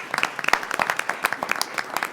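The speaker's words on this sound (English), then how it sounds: "Well-deserved applause." A room at a university board of curators meeting breaks into applause for a retiring staff member, a dense patter of many hands clapping that stays even and moderately loud for about two seconds.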